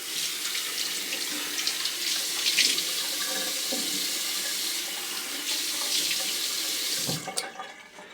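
Water runs steadily from a tap to wet the face, a continuous close splashing stream that ends with a brief clatter.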